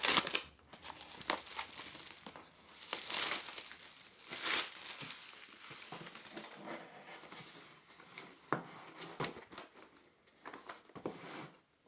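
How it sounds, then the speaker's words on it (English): Shrink wrap is pulled and ripped off a BT Smart Hub router box, with close crinkling and tearing bursts of plastic film, louder swells interrupted by short quiet gaps. "open up the box by pulling or ripping off the shrink wrapper"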